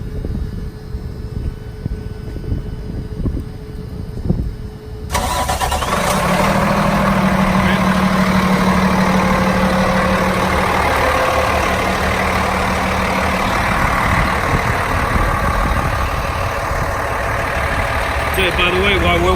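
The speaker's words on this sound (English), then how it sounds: "this truck sometimes you have to turn on the key in ignition and give it a little while before you crank it" A diesel truck fitted with a SportChassis remote-start system turns over and fires after a few seconds of quiet background, then settles into a loud, steady, close-up idle rumble that continues to the end.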